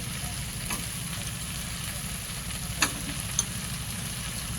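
Potatoes and brinjal frying with dried prawns in a pan, giving a steady, close sizzle with a low bubbling crackle underneath, broken by two brief sharp clinks near the end.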